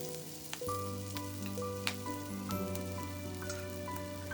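Yellow noodles hit oil in a wok over high heat and sizzle in a soft, steady hiss with faint scraping taps, while gentle background music plays.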